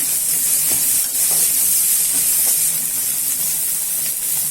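Curry leaves and garlic sauté in a hot pan with a constant loud hiss and sizzle, steady throughout and close, with no voices.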